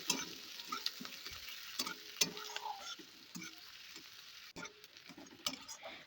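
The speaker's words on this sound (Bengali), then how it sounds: "পেঁয়াজ কুচিটা হালকা করে ভাজা ভাজা করে নেব।" Chopped onion fries in hot oil over tempering spices for ghugni, a steady crackling sizzle with scattered pops and light stirring, faint and close, with no voices.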